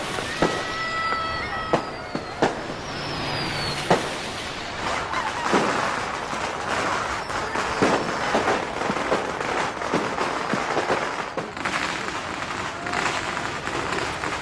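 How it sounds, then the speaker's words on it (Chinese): Firecrackers burst at a Chinese wedding in a long, continuous string of sharp cracks and pops, dense and fairly near, with a few louder bangs early on and a crackling rattle throughout. "伴随着热热闹闹、绵延不断的鞭炮声"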